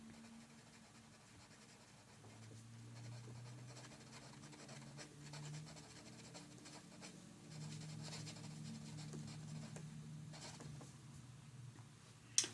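A pen scratches out handwritten math notes on interval and set notation, a faint, close, intermittent scratching of strokes over a quiet hum, ending with a small tap.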